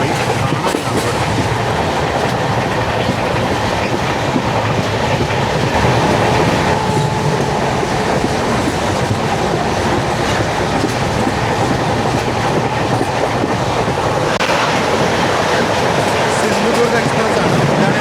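Sindhudurg Express train rolling past on Indian rails, a loud, continuous close rumble with clattering wheels and faint squeals throughout, a voice talking over it.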